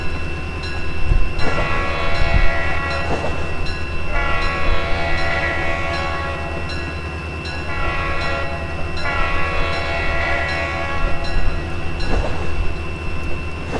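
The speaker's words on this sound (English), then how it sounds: "even though Seaboard Man has an RS5T horn, that it's painfully quiet compared to his voice" Several long blasts from an RS5T diesel horn in the Trainz railroad video game sound over a constant low rumble of the moving locomotive, each blast lasting a couple of seconds with short gaps between them.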